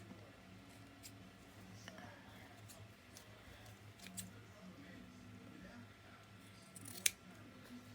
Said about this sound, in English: So I might just snip that.